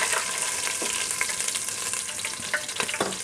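Chopped green chillies frying in a pan, a dense, loud sizzle with a few quick scrapes of stirring, short and close, no one speaking.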